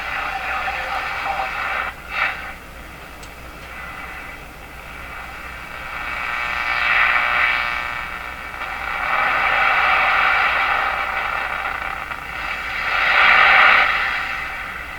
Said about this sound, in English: we're going to pick up a French station at 860